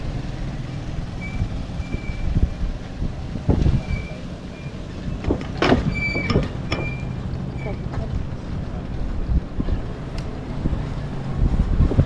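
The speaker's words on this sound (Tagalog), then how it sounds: "Lakas na ng hangin." Strong wind at a seaside beach buffets the microphone with constant low rumbling gusts, while people talk over it.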